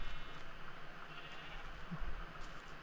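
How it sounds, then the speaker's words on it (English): Trapped sheep bleating in a video game, a couple of soft, short bleats over a low game background with no speech. "Some trapped sheep."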